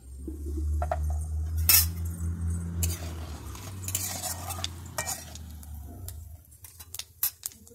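Nigella seeds fry in hot oil with a soft sizzle, mixed with clinks and scrapes of a utensil against the pan, close by.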